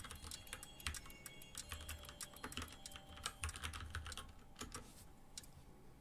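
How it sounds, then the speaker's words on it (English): Steady typing on a computer keyboard, rapid uneven clicking of keys close by with brief pauses, no voices. "Just typing it in by hand."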